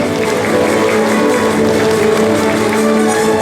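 A concert-hall audience at a jubilee evening applauds the maestro, with steady, loud sustained clapping and crowd noise filling the whole stretch.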